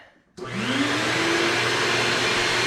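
A 1.5 horsepower wet/dry shop vacuum switches on abruptly after a brief silence and then runs at a loud, steady roar with a rising motor whine.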